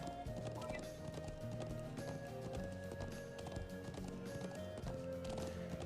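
Rhythmic clip-clop of horse hooves in the video game Trails of Cold Steel, a quick galloping patter over steady game music.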